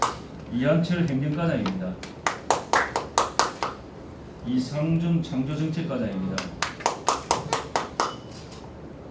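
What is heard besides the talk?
council members clapping to welcome officials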